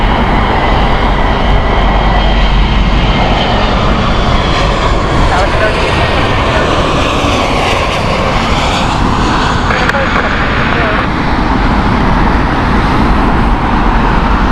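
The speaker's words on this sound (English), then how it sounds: "The first Munich flight with Lufthansa's Airbus" A Lufthansa Airbus A320neo jet roars loudly and steadily at Heathrow Airport in the evening, a broad continuous engine noise with distant traffic beneath and a voice talking over it.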